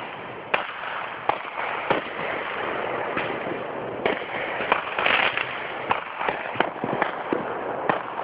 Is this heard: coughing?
no